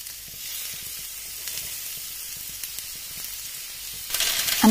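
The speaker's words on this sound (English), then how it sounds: "I sauteed the vegetables" Frozen peas, corn and other vegetables sauté in coconut oil in a grill pan, giving a steady soft sizzle throughout that swells louder near the end as they are stirred.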